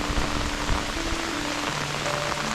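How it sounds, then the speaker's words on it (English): Heavy downpour lashing open water, with droplets splashing back up; a steady, dense hiss of rain fills the scene from close by, with no voices. "Let the heavy downpours lash the water bodies."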